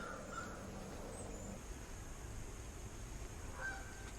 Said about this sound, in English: All the crows started landing.